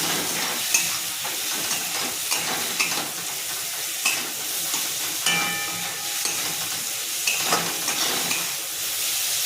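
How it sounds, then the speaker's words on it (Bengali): Shrimp fries with grated coconut in oil before taro leaves go in, a dense steady sizzle with repeated spatula stirs and scrapes, up close and unbroken by voices. "ভালো করে ভেজে নিই, তারপরে এর মধ্যে আমি কষিয়ে নিয়ে কচু শাকটা দিয়ে দেবো।"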